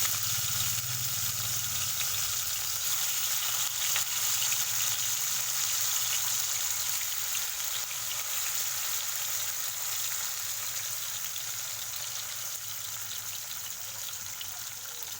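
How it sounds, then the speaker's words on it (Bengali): Fish frying in a pan of oil while cooking at home, a steady, dense sizzle and crackle that holds at an even, fairly loud level throughout, close up and with no voices. "দেখো বন্ধুরা, মাছ ভাজা হচ্ছে"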